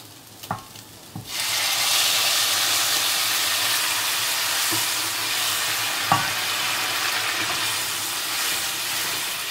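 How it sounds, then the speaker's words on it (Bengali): Hot water poured into a pan of chicken frying for a Bengali-style chicken ghanto, a brief clatter followed by a loud, steady sizzle and steamy hiss that carries on to the end with a few faint clinks. "আমি এবার গরম জল করে রেখেছি, গরম জল দেব।"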